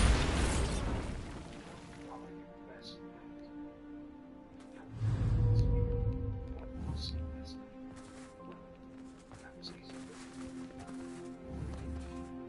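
Bombarda spell blasts from the Hogwarts Legacy video game: a loud burst at the start, then another booming impact midway, with crackling debris and a steady game soundtrack underneath.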